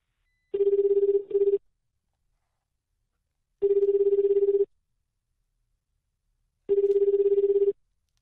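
During a radio call-in show, a telephone rings three times in evenly spaced, clear, steady bursts with silence between them, as a guest in Uwajima, Ehime is called.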